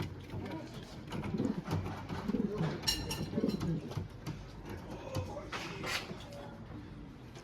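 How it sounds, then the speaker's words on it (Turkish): A male pigeon coos to a female in a loft, with soft repeated throaty coos under a background of other birds and quiet human talk. "Bak çağırdı onu erkek."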